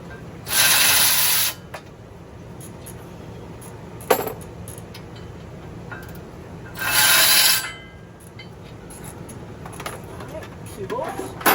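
Two 15mm bolts being loosened from a rear brake bracket behind a hub, heard as two bursts of bright ratcheting, one near the start and one midway, over quiet workshop background.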